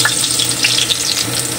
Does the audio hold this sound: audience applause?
no